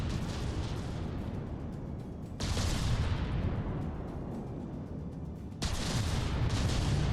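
Battleship shells striking and glancing off armor in the naval combat game From the Depths, heard as loud, continuous rumbling blasts with two sharp surges in intensity, no voices.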